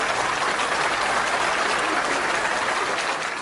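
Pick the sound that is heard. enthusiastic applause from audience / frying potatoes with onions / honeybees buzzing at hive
enthusiastic applause from audience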